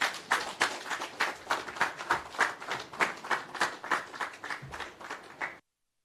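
An audience applauds at a launch ceremony for a restored bamboo scenic avenue, a sustained round of clapping with an even, pulsing rhythm, moderately near, that stops abruptly.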